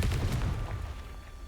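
In Hogwarts Legacy a Confringo blasting curse detonates, giving a deep rumbling blast that decays across a second and a half, loud and close with no talking.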